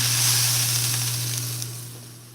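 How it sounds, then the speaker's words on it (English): Pork tenderloin set into a hot pan with water, giving a strong steady sizzle and hiss that fades slightly over a couple of seconds, close and alone with no talk. "And then I put my pork in a pan of water."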